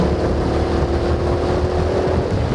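A go-kart engine at full throttle on a track gives a loud, continuous, close buzzing drone with wind rush throughout.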